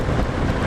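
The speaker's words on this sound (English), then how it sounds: "it's another very windy day" A brief, steady burst of loud wind roar buffets the microphone outdoors on a very windy day before a solo ride, dense and unbroken for under a second.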